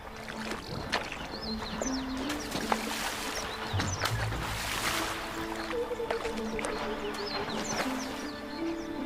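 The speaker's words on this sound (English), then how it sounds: "And it always involves a good splashing." An African elephant splashing in water, with steady sloshing and intermittent splashes at moderate distance, and scattered bird calls in the background.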